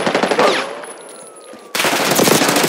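Gunfire in Call of Duty: Black Ops 6 multiplayer, a loud close burst of rapid automatic shots, a short pause with a fading tail, then another dense burst.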